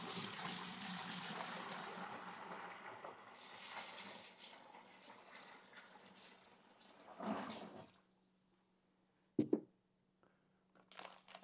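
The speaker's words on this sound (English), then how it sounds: "So I'm gonna add hot water first." Hot water runs into a bucket for a rum mash, a steady gushing pour for about eight seconds that tapers off, followed by a few sharp knocks and handling noises in a quiet room.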